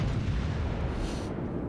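Battleship Ohio's eight 457 mm main guns in a naval video game: a heavy, sustained deep boom rumbles continuously, loud and close, with no voices.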